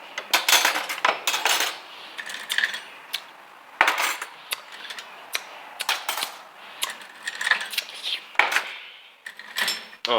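Forks, spoons and knives clatter as they come out of a dishwasher being unloaded, with bursts of sharp metallic clinks and jangles at irregular intervals, close by, and a person talking between handfuls.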